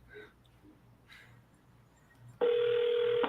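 Telephone dialing tones: a few short, soft tone bursts, followed by a loud, steady ringback tone that holds for about a second.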